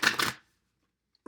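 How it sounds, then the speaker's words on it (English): Isis Oracle cards shuffle in a quick riffling burst close by, followed by near silence and a faint tap at the end. "shuffling"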